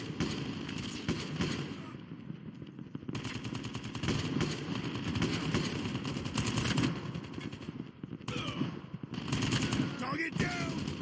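Rapid automatic gunfire rattles almost without pause in Call of Duty Mobile, with dense bursts of shots near and loud, brief gaps between volleys and game voice callouts mixed in.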